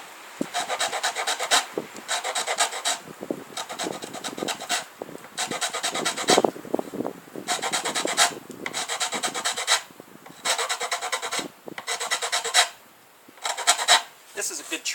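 A rasp files wood while shaping the pin nocks on a bow, making repeated rhythmic scraping strokes in bursts of about a second, close and fairly loud, with brief pauses between strokes.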